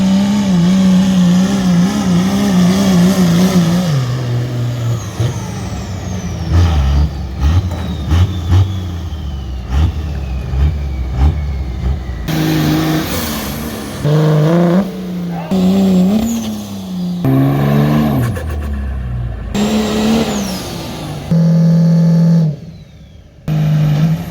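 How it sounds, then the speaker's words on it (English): A 2001 Dodge truck engine roars and revs at a truck-pulling event, with loud sustained engine drone rising and falling over the course of the pull, punctuated by shifts and bursts, and an announcer talking over it. "The 2001 Dodge, here comes Dave Jacobs."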